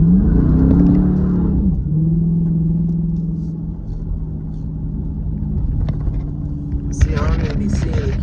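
A Dodge Charger Daytona 392 V8 roars loudly and steadily while the car slides through turns, its engine drone rising and falling in pitch, with a brief higher scrape or squeal near the end.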